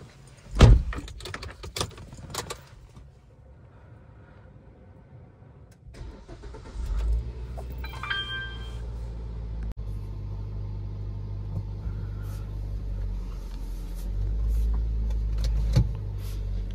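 A car is taken out and driven off: a few sharp clicks and jangles come first, then the engine starts and settles into a low, steady idle that swells into a deeper rumble as the car moves off.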